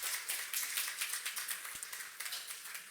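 An audience at a cancer survivorship conference claps to welcome the next speaker. The scattered, fairly faint clapping is made of distinct individual claps and comes with a few sharp taps.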